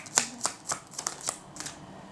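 Tarot cards shuffled by hand for a reading, a series of about eight crisp riffling snaps in uneven rhythm, close and fairly quiet, with no talk.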